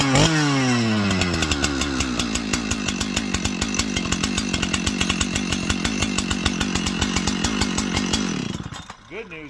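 A Husqvarna 372XP C-Torq chainsaw starts up, then runs at a loud, steady roar with a rapid pulsing engine rhythm that lasts nearly the whole clip before it cuts off at the end.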